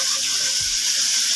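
Water added to a pan of masala being cooked for Lahori cholay, a steady close running-water pour with a soft hiss lasting throughout, no talking.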